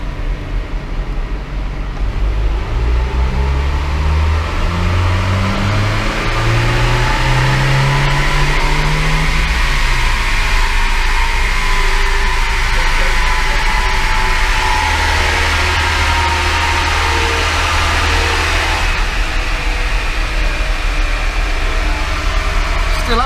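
A car's engine revs hard on a dynamometer rolling road in third gear, climbing and falling in pitch over a loud, constant mechanical roar with tyre and roller drone and no talking.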